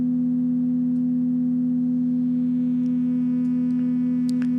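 A steady, low electronic hum of a single pure tone holds unchanged throughout, with only faint clicks near the end.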